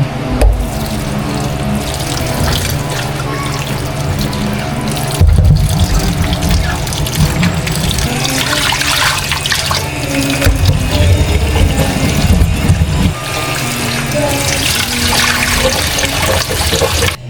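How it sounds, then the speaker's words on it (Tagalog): Tap water pours steadily into a kitchen sink while string beans are washed, a loud continuous splashing rush that thickens and deepens in spells as the stream hits the beans and basin. "bali hugasan ko na rin po itong sitaw"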